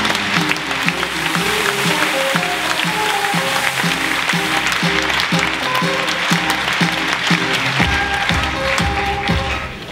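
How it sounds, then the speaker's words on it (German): Audience applause fills a venue as the comedian Pierre Jarawan is welcomed on stage, steady dense clapping sustained for the whole stretch, loud and close, with a few thumps and no talking. "Beifall bitte."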